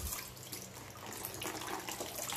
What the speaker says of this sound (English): we'll just have to drain this away